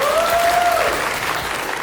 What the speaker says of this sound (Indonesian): Mulai dari sebelah kanan ya. Mana suaranya? Tepuk tangannya.